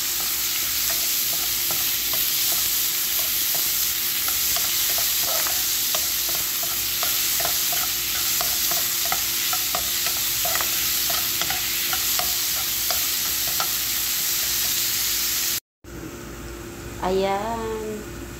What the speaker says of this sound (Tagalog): Magisa na tayo ng sibuyas.